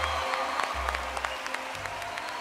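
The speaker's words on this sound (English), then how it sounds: "Round of applause for Heidi." A talent show audience applauds on stage, with scattered sharp claps over a steady wash of clapping and low bursts of music or hum underneath.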